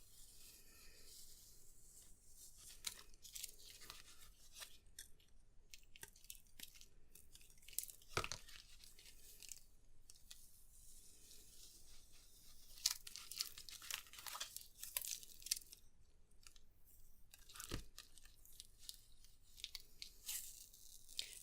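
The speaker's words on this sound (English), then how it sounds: "And you can just peel it off. Always peel it back on itself." An adhesive piece is peeled slowly off a watercolour card, giving quiet, close crinkling and tearing rustles with a couple of sharper snaps along the way.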